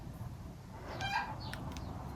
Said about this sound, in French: Ah, et Poule, elle se réveille